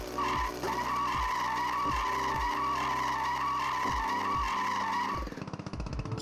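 In-game vehicle noise from the BMX Streets video game: a loud, sustained screeching skid over repeated low thumping engine pulses, cutting off abruptly near the end.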